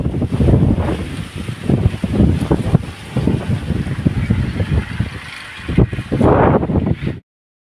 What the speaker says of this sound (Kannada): ಸಖತ್ ಗಾಳಿ ಬೇರೆ ಬೀಸ್ತು